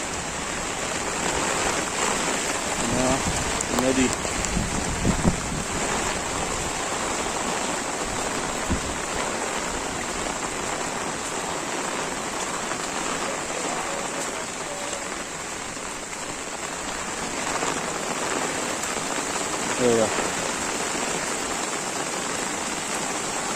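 Heavy monsoon rain in a Konkan village near a bridge, a loud continuous hiss of downpour with water rushing beneath, unbroken for the whole stretch.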